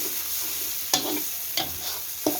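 Mackerel chili paste with dried chilies, shallots, garlic and coconut being stir-fried in a pan, giving a steady sizzle with three sharp scrapes of a utensil against the pan and no talking.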